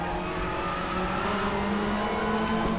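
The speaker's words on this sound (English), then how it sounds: "Tires squealing, no big deal" Race car tires squealing in the Raceroom sim at Sachsenring, a front-wheel-drive car getting squirrely off throttle, a steady high screech riding over continuous engine drone for the whole stretch.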